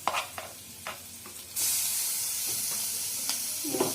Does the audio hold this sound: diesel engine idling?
no